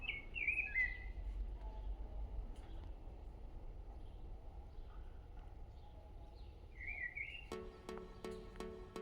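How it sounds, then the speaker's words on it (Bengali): Bright bird chirps sound twice, near the start and again later, over low steady background rumble, with a brief rhythmic rattle at the end. "পাখির ডাক আপনাদেরকে শোনাচ্ছি, খুবই সুন্দর করে পাখি ডাকছে।"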